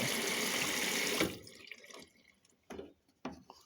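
Water gushes into a washing machine filling for its pre-wash, a steady rushing stream for about a second before cutting off, followed by a few faint splashes and drips close by.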